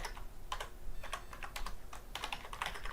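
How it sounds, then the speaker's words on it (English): Rapid typing on a computer keyboard while entering a street address, with steady clusters of soft key clicks running continuously and close by, with no talking. "I just type in any address"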